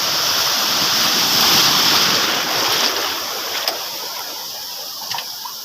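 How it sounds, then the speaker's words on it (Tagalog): Big ocean waves splash and rush around a boat in a loud, continuous wash of water noise, swelling and easing with a few sharper splashes toward the end. "Laki alon!"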